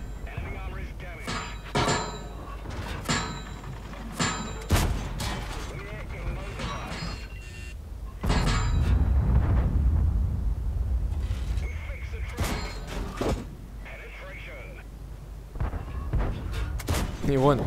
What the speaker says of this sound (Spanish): Y escuchad esta orquesta de disparos